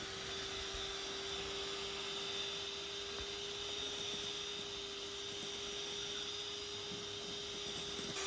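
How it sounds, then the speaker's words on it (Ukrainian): Egg whites being whipped with a pinch of salt and sugar, a steady mixer whir with a constant tonal hum running unbroken and fairly quiet throughout, no talking. "Збиваю білки до збільшення в об'ємі, поступово сипаючи цукор, але не весь зразу."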